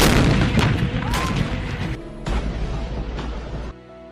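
Bofors FH-77 howitzer artillery firing, a heavy booming blast with dense rumbling reverberation that carries on, followed by further sharp reports, loud and close outdoors.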